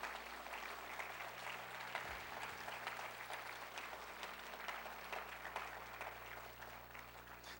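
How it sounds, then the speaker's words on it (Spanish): A church congregation applauds steadily and evenly for the whole stretch, a dense wash of many hands at moderate distance, fairly soft, with no break or fade. "Denle ese aplauso fuerte al Señor"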